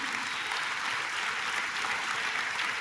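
A church congregation claps steadily, a dense, even wash of applause that holds at the same level from start to finish.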